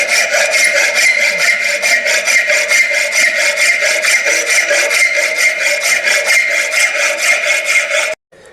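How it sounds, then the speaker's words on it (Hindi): A 300 mm flat bastard file is worked across metal in steady, rhythmic rasping strokes, loud and close, about three strokes per second, stopping abruptly near the end. "वहाँ पर हम फ्लैट फाइल बास्टेड रेती का प्रयोग करते हैं।"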